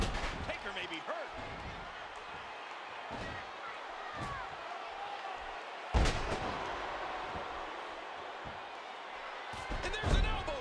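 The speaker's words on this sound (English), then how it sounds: "And there's an elbow drop" Elbow drop impact in the WWE 2K14 video game, Undertaker versus Seth Rollins in a steel cage match: a heavy slam lands midway over continuous crowd noise, with smaller thuds around it and commentary running throughout.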